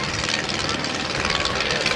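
Propeller aircraft engines drone steadily as planes fly in left echelon formation at a Dover AFB open house airshow, a continuous broad roar with no clear voice over it.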